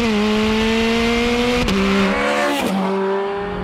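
A Ferrari 430 Scuderia's 4.3-litre naturally aspirated V8 pulling hard under acceleration, its loud steady tone climbing through the revs with two quick upshifts breaking the rise, heard close and continuous.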